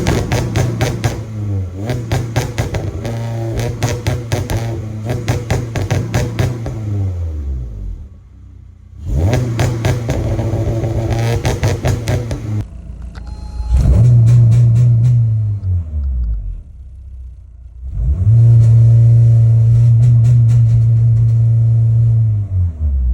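A car engine revs repeatedly in loud bursts, climbing and dropping in pitch, with short pauses between each rev.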